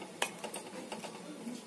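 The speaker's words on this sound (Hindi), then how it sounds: "अभी उबलना तैयार शुरू हो रहा है, अब सिर्फ हमें 2 मिनट चलाना है," A spoon clinks and scrapes against a pot while boiling sabudana is stirred, giving a few faint, sharp taps over a quiet background.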